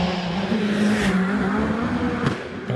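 A hillclimb race car powers up the course at Doune, its engine a loud sustained drone with a steady pitch through the run and brief sharp transients, no voices over it.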